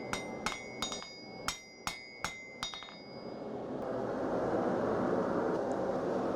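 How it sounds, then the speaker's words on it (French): Hammer blows on hot round steel bar at an anvil while forging a knife, about eight sharp ringing strikes in an even rhythm, then a broad roaring hiss of the forge fire takes over. "Quand la couleur est dans ces tons-là, je vais pouvoir commencer à taper dessus."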